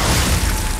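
Glacius ice spell from Hogwarts Legacy, a short dense blast of loud crackling noise with a heavy low thump, lasting under a second.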